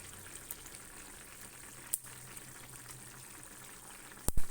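Curry bubbling in a pot on the stove, a soft low simmer with faint popping and a couple of sharp clicks near the end, no voices.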